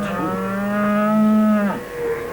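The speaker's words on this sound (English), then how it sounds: "Oh, it was a cow that went moo, Bungle." A single cow gives one long, loud, steady moo, holding its tone for over a second before breaking off, followed by a softer trailing call.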